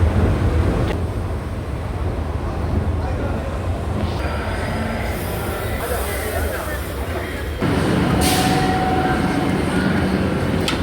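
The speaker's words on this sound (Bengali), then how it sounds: "ফাইনালি ট্রেন ঢুকে গেছে মেট্রো স্টেশনে।" Metro train pulling into a station in Kolkata: a low rumbling hum and rolling mechanical noise that steps up in level toward the end, with crowd chatter and voices in the background.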